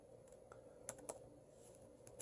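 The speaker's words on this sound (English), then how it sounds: "So I'm just gonna type in my username." A username is typed on a computer keyboard in a short burst of faint, irregular key clicks heard up close in a quiet room.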